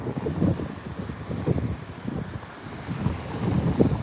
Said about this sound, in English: quite some big waves today though